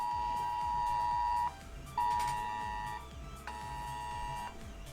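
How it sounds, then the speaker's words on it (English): An early curfew alarm sounds in a house with three long electronic beeps, each about a second long, close and fairly loud over a busy background murmur. "It's the early curfew alarm"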